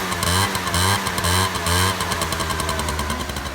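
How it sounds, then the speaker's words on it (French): A Peugeot Zip scooter on its stock exhaust starts up and runs: a loud, close two-stroke buzz that pulses in rhythmic revs before settling into a steady, rattly idle. "Donc là, on va démarrer son scout."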